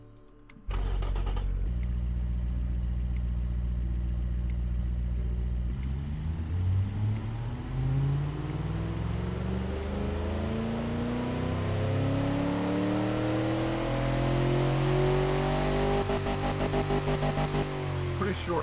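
A simulated truck engine in the Automation car-building game cranks, settles into an idle, then revs up through a long climbing sweep. The engine is loud and continuous, with a voice talking over it.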